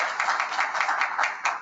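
Brief, fairly quiet applause from an audience at a public sector summit in Pakistan, a short burst of overlapping hand claps with a faint pulsing rhythm and no speech on top.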